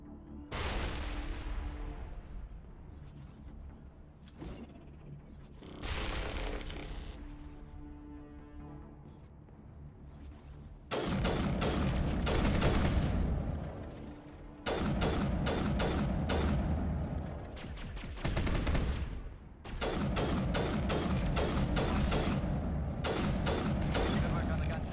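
A big gun fires repeatedly in the video game Mass Effect, booming in heavy blasts with mechanical clatter and pauses between the volleys. A faint voice comes through now and then.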